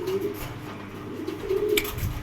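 Pigeons coo softly and repeatedly among sale pairs of racer, homer and fancy breeds, low rolling calls close by with a faint chirp in the background and no talk.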